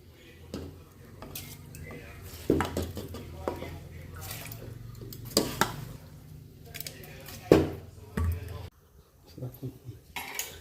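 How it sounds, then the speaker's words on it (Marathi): Washed lentils and rice tipped into a pressure cooker, with clinks of metal vessels and utensils, scraping and knocks at irregular intervals, close by. "तांदूळ धुवून घेतले ते ते आता कुकरमध्ये टाकून घेऊया"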